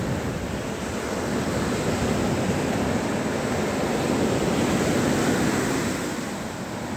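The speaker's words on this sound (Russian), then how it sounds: "Это Тихий океан." Pacific Ocean surf on the black sand Khalaktyrsky beach in Kamchatka: a continuous broad wash of breaking waves swelling slightly in the middle, with wind noise and no talking.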